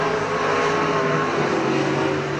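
Race cars roar around an oval track during heat racing, a steady, dense engine drone from several cars running close together, moderately loud with no talk over it.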